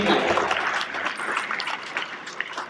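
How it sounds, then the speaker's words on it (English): Convention audience at a hotel owners' gathering claps in a brief, moderately loud burst of mixed hand claps that tapers slightly over a few seconds. "One more round of applause."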